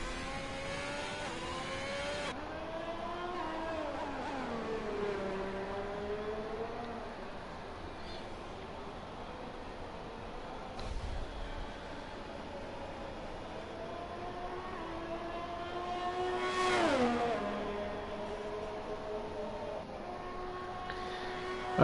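Racing car engine in a sim racing game on a lap of a Spanish circuit, a loud whining drone rising through the gears with sharp drops at each upshift and braking, steady and close, with no talk.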